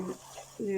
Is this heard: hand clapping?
no